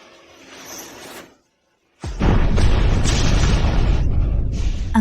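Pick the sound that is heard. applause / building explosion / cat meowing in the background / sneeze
building explosion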